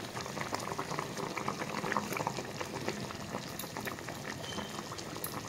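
Eggplant curry gravy bubbles in a pot, a dense continuous boil of small pops and gurgles at moderate level, close by and with no talk.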